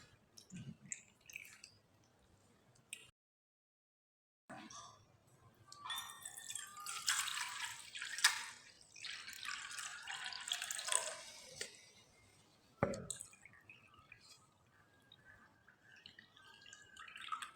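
Water is poured into rice flour in a bowl, a faint drip and trickle, then a steady louder splashing pour lasting several seconds, with a brief gap of silence early on.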